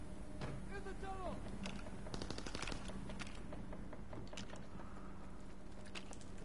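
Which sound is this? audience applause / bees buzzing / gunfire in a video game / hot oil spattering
gunfire in a video game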